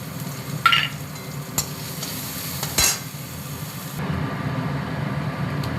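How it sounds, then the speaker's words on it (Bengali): Nigella seeds, chopped onion and green chillies frying in hot oil, a steady close sizzle with a few sharp stirring clicks and scrapes in the pan, no talking. "এখানে তেলের মধ্যে দেব আমি একটু কালো জিরা ফোড়ন, আর দেব অল্প পেঁয়াজ কুচনো আর দুটো কাঁচা লঙ্কা"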